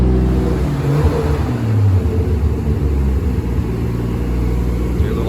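A Toyota Supra Mk4 with a 2JZ-GTE engine and 272 cams running on E85 on a dyno, a loud, close, continuous engine drone with shifting pitch and a rumbling low end.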